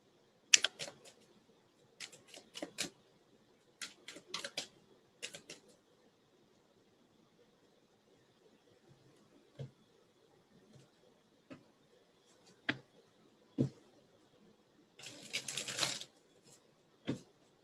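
Tarot cards being shuffled by hand: soft, papery clicking bursts that come and go over quiet stretches, ending in a denser riffling flurry near the close. No speech.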